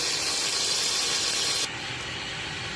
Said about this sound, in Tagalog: Start na po tayo ng paggigisa. Ayan na po yung sibuyas at kamatis.